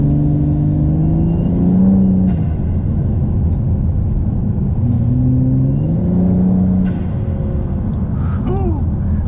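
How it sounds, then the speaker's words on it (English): A Volvo S60 T6 with Snabb 3-inch turbo intake piping accelerates on a drive, engine rumble rising and falling in steady pulls while the turbo spools with a whooshing whir, heard from inside the car with no talking. "Man, the turbo spools up so quick, and the reaction to the gas pedal is just so nice, so quick."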